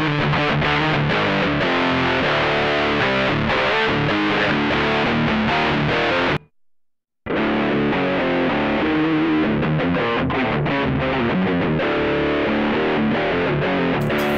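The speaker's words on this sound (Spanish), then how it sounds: "Distorsión." Electric guitar through the distortion setting of a Mooer GE100 multi-effects pedal plays a loud, dense riff of chords, breaks off in a brief silence, then resumes for several more seconds, with no voices.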